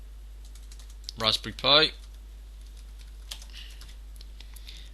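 Someone types a title on a computer keyboard while editing a widget in an online learning space. A brief spoken phrase comes first, then faint, sparse, irregular keystroke clicks at close range over a quiet background.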